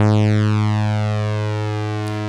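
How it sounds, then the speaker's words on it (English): An Analogue Solutions Nyborg 12 analogue synthesizer drones loudly with a buzzing, harmonic-rich tone. Its oscillator sync wave reset makes a sweeping resonance that falls, then slowly rises, over two seconds, with a faint click near the end. "it's a different effect that's causing a different sort of wave reset. It's not the traditional sync sound"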